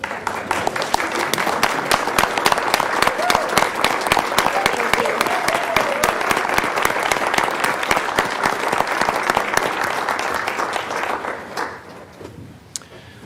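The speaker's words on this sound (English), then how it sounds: "Let's all rise and applaud Sherry." A county commissioners' business meeting audience claps steadily and loudly for about eleven seconds, a dense crowd applause that tapers off near the end, with a few voices faintly underneath.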